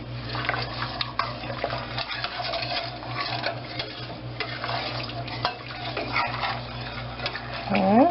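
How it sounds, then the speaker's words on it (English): A spoon stirs sugar into liquid in a pot for pickled beets, scraping and knocking steadily against the bottom and sides, close and continuous. "we're just going to keep stirring it till all the sugar crystals are gone"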